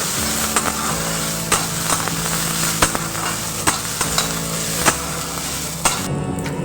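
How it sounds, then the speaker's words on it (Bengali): Chana dal and urad dal frying in a pan for masala dosa filling, a continuous close sizzle punctuated by regular sharp taps and scrapes of a spatula, about one every second. "কিছুটা পরিমাণে ছোলার ডাল কলাইয়ের ডাল সমস্ত কিছু খুব ভালো করে ভেজে নিতে হবে"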